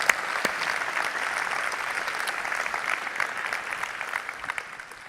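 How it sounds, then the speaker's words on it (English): An audience at a Gartner keynote on digital transformation applauds the band, with steady, dense clapping throughout that slowly tapers off toward the end. "can we get a nice round of applause for the band"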